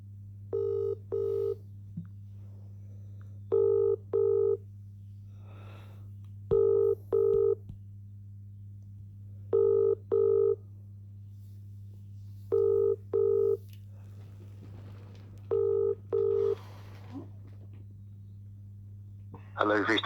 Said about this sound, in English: Ringing up Jonathan Smith of DWF.